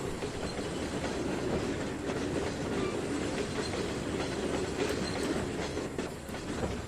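Train shunting in a rail yard in the Trainz 2019 railway simulator, a loud, continuous rumble with rhythmic clickety-clack of wheels over rail joints and faint metallic squeal, no voices.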